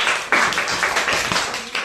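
Children in a classroom break into brief, uneven clapping together, a short burst of close hand claps that fades out within a couple of seconds.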